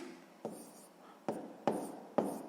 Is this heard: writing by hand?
yes